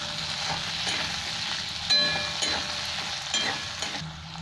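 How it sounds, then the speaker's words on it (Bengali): Diced potatoes and onions fry together in oil, a steady crackling sizzle up close with a few sharp scrapes and clinks of a stirring spoon, alone without talk. "ছোটো ছোটো আলু কেটে রেখেছি, আলুটাকে ভালো করে ভেজে নেবো পেঁয়াজের সাথে।"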